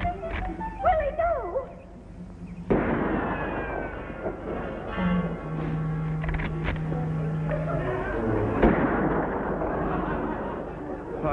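Rapid gunfire aimed at a rabbit at an outdoor picnic, with sharp bursts and cracks over a noisy, busy background and voices talking throughout.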